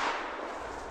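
A single sharp shotgun blast fired at a grouse while bird hunting in a swamp, loud and close, followed by a brief ringing tail.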